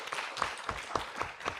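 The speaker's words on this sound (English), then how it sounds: "Let's give one more big round of applause." Audience at a Falling Walls Lab science pitch event in Yogyakarta, Indonesia, clapping after a presentation, rhythmic claps at a regular beat, faint and somewhat distant with no talk.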